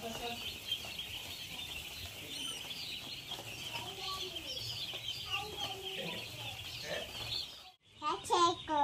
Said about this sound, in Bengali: ফার্মিং ভিডিওর নতুন আকর্ষণ চার পাওয়ালা মুরগি।